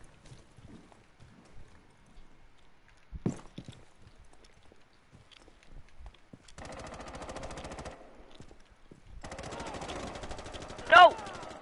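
Rapid gunfire in a tactical shooter match of Rainbow Six Siege, arriving in two dense bursts with sharp shots scattered earlier and a loud crack near the end, mostly without talk.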